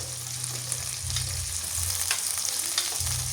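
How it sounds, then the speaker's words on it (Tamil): Sliced large onion dropped into hot oil for a chicken curry, sizzling loudly and continuously at close range, with faint stirring scrapes underneath and no voices. "இதோடைய நாங்கள் வெங்காயத்தை சேர்த்துக்கொள்வோம்."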